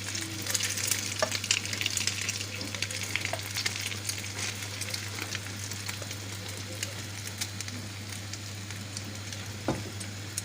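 Egg-coated bread slices fry in a pan and get flipped, giving a steady, close sizzle that runs throughout with a low hum beneath and one faint clack near the end.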